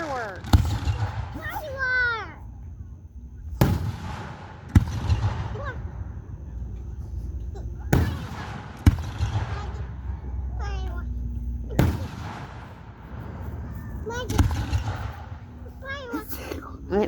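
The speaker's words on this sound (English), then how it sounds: "Watch the fireworks." Independence Day fireworks explode in a park, sending a string of sharp, loud booms at irregular intervals with rumbling tails between them, while adults and children talk nearby throughout.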